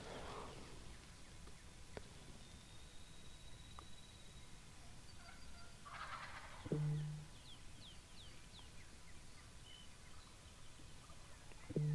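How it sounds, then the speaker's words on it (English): Wild turkeys, gobblers and hens, call out far across a river on a spring hunting morning in Iowa: two short distant gobbles stand out over faint background birdsong and a low steady hiss. "There's a couple gobblers on my side"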